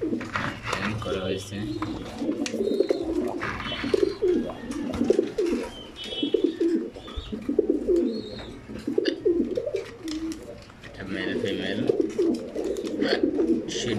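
Newly paired pigeons in a loft coo repeatedly and close by, in rolling bursts with a few higher chirps, while someone talks over them.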